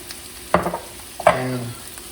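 Crispy duck pieces hit a hot pan in two quick bursts, each a sharp sizzle followed by a short hiss and stirring scrape, close and clear.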